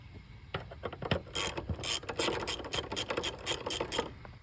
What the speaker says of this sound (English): start removing the hardware around the air box